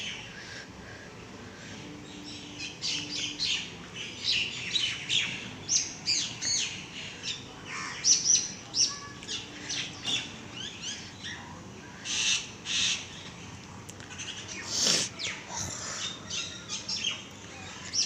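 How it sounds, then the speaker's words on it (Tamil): Several mynas call and sing in rapid overlapping bursts of chirps, whistles and squawks outdoors, birds answering each other from near and farther off as rain threatens, with no talk. "அங்கே ரெண்டு மைனா கத்திக்கிட்டு இருக்கோன்னா இங்கே ரெண்டு மைனா கத்திக்கிட்டு இருக்கு"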